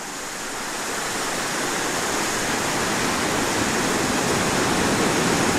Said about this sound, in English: Now the second problem is there are big waves.